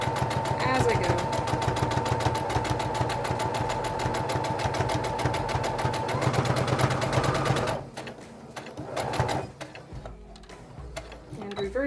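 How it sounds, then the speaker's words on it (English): Sewing machine stitching a hem in stretchy fabric for a maid dress costume, a steady loud mechanical whir with rapid ticking for about eight seconds before stopping, followed by quieter handling sounds. "Using the lazy method of just feeding in the hem as I go, using the foot as a guide, making sure not to pull because it is stretchy fabric."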